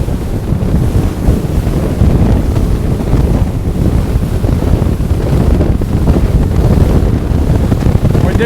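A boat on a sea trial riding through waves, with loud continuous wind buffeting and splashing water as the hull jumps over the swell, heard alone with no talking.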